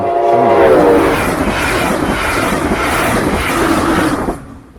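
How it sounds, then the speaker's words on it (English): A train rumbles and clatters past loudly, with a brief horn-like tone at the start, then the noise cuts away near the end. "I decided to go back and get some more video of the train"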